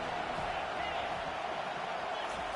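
Football stadium crowd roaring steadily as the home team pins opponents deep in their own end, a dense continuous wash of cheering and shouting with no pauses.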